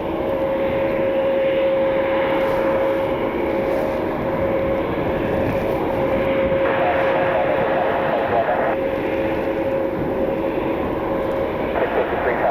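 A Spirit Airbus A320neo's jet engines drone steadily with a sustained whine as it taxis out to the runway, loud and continuous, with faint voices underneath.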